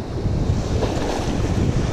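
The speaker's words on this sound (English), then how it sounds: "We gotta watch these waves real quick." Ocean waves crash and surge along the rocky Oregon coast in a continuous loud roar, with heavy wind buffeting the microphone and no talking.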